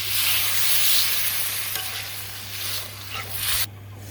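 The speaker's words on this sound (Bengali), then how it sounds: "তরকারিতে আমি ঝোল দিয়ে নিলাম পরিমাণ মতো" Water poured into a simmering curry of pointed gourd and stalks in spice masala for hilsa fish curry, giving a loud steady hiss and bubbling that cuts off abruptly near the end, with no talk.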